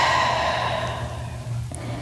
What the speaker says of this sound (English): Exhale, round the spine.